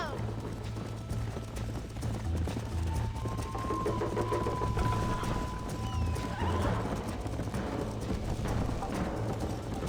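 Horse hooves galloping in the Red Dead Redemption video game on a ranch, a steady clip-clop running under continuous talk, music and game noise, with a whinny partway through.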